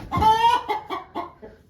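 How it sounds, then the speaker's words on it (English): A hen in a backyard coop gives a run of irritated clucks, a drawn-out squawk followed by several shorter clucks close by. "This chicken is still telling Stetson she's very displeased with him."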